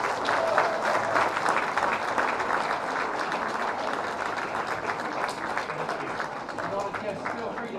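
Group applause at a news agency event with a prime minister present, steady dense clapping that gradually thins, with voices talking underneath.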